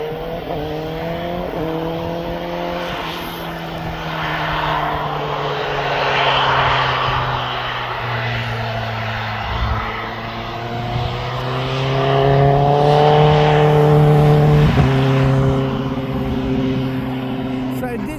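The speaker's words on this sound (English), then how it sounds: "Ryanair is now turning on to the active." Ryanair airliner taxiing at East Midlands Airport, its engines giving a steady, rising and falling whine and rumble at a moderate distance. Someone talks over the engine sound throughout.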